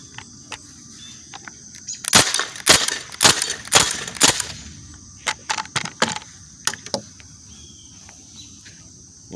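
Air gun shots crack out in an irregular volley of sharp, loud reports, some in quick clusters and others spaced apart, over a quiet outdoor background with faint insect-like chirping.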